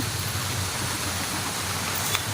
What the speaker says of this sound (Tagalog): Umuulan na guys, umuulan na.